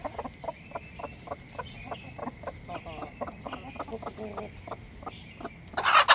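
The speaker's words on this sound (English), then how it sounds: "I need to check my chickens." Backyard homestead chickens clucking in a quick, regular series of short calls, fairly close, with a brief louder burst of noise at the end.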